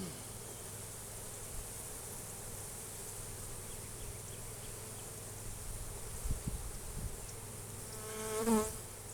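Honey bees buzz steadily around an opened hive during a March inspection in Mississippi, a dense, continuous hum close by that swells briefly near the end as a bee passes near.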